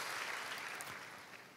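A church congregation applauds during a worship service, a soft, dense wash of clapping that stays steady and then slowly fades.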